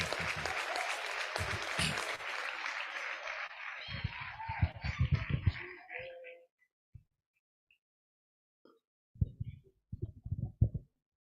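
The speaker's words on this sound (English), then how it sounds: "Please clap for our president." An audience claps to welcome incoming president Rita Tinka onto the stage at her installation ceremony. A dense burst of applause fills the first six seconds, then fades to quiet, and a few scattered claps and taps follow near the end.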